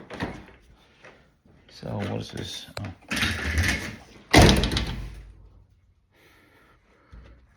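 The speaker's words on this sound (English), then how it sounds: "I guess I should close the door. Let's just close the door and see how it fits up in here." Passenger door of a 1984 Oldsmobile Cutlass Supreme Monte Carlo-style build, fitted with new window glass, swung shut with a single loud slam mid-clip, amid brief talk and softer handling clunks before it.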